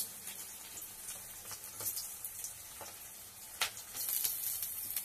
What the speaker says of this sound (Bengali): এবার আমি দিয়ে দেবো রসুনটা, এই যে রসুনটা দিচ্ছি